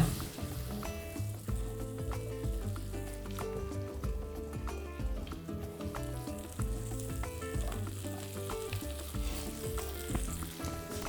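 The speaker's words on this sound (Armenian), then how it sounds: "Տապակում ենք ծնեբեկը," Asparagus fries in butter in a pan, a steady crackling sizzle with occasional stirring clicks, heard under continuous background music.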